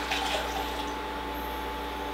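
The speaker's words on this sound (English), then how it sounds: "we're going to add 2 cups of water into our pot" Two cups of water pour steadily into a cooking pot for soft pretzel dough, a continuous close rushing splash over a low electrical hum, with no talking.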